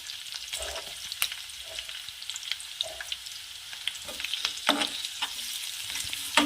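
Onion and capsicum stir-frying in a hot pan for a street-style veg Manchurian, a steady close sizzle with scattered crackles and sharp clinks of a spatula stirring throughout, no voices.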